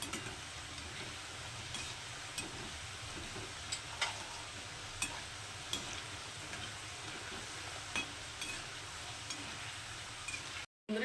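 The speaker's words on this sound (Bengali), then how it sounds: "এটা তো এদিকে ভাজা হচ্ছে" Nimki dough frying in oil over a medium gas flame, a soft continuous sizzle with scattered small ticks and pops, fairly quiet and unbroken by speech until a brief dropout at the end.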